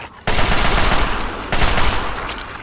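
Automatic gunfire in the video game Fallout 3 rattles in a dense, loud burst that starts abruptly, followed by a second surge of shots partway through.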